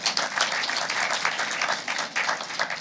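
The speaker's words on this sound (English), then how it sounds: "Clap for yourself." A burst of lively clapping from a group at a bar admission ceremony for new advocates, close and energetic, with a few louder individual claps standing out.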